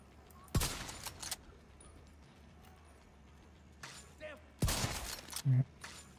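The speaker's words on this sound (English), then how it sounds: "I'm gonna body shot him so I can headshot him after." Video game gunfire in bursts: a sharp volley early, a lull with faint ambience, then a second loud burst followed by a couple of smaller shots.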